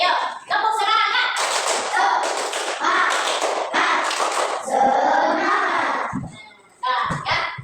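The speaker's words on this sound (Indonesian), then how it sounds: "Ayo tepuk semangat." Children's rhythmic 'tepuk semangat' clapping chant in a classroom, sharp claps and taps in quick patterned bursts mixed with chanted voices, loud and close, with a brief pause near the end before a final burst.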